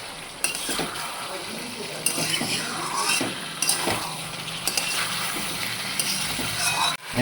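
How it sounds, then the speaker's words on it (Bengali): Ginger-garlic spice paste being stirred and fried in a pot for a thin chicken curry with papaya and potato, a steady sizzle with scraping spoon strokes against the metal and occasional sharper clinks, close and continuous, no talking. "এবার ভালো করে কষিয়ে নেব"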